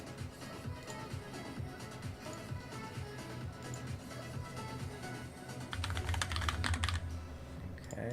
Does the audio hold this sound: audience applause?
no